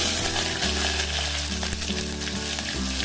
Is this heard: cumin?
yes